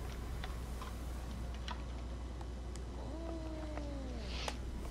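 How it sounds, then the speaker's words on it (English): A pet cat in DC Universe Online gives a drawn-out, wavering meow partway through, heard over a low game hum with scattered light ticking clicks. "Somebody just called out a cat?"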